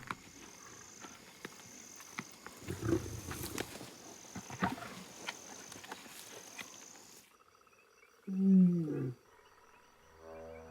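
Lions feeding on a kill, with low growls and rough rumbling over wild ambience, then a louder close roar-like snarl near the end after a quieter stretch.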